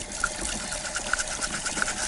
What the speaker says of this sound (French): On frotte avec la brosse qui est livrée avec.